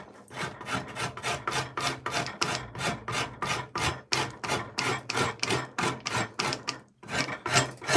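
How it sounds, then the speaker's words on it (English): Cylindrical cheese-grater-style rasp shaping the handle of a maple selfbow, steady rhythmic rasping strokes repeating roughly twice a second, close and continuous with one brief pause near the end. "This is literally just a cheese grater. It is a cheese grater that they have rounded off into a cylinder."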